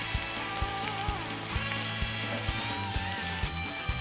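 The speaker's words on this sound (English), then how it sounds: "More sizzle." Steaks sizzle on a grill, a steady close hiss and crackle with a faint regular clicking underneath, loud and continuous without talk.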